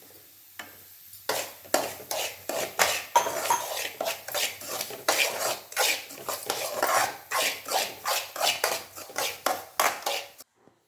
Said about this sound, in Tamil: இந்த வறுத்த நெய்யிலேயே ரவையை போட்டு வறுத்துடணும்